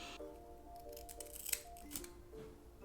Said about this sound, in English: I'm going to go in with these crafts scissors and see what it does